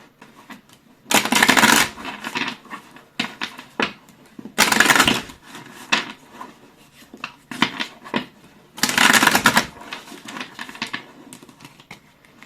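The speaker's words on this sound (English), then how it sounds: "now we're gonna shuffle the tarot" Three loud bursts of tarot cards being riffled and shuffled, with softer taps and snaps of cards between them, close by.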